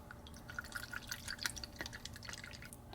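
Meguiar's glass cleaner concentrate trickles into a measuring container as a faint, quiet run of small irregular drips and splashes.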